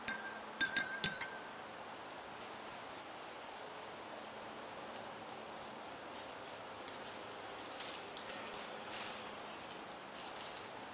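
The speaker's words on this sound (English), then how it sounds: "combine the salt and the water and stir it clockwise 3 times." A few light glassy clinks near the start as salt and water are stirred in a glass, then only faint rustling in a quiet room.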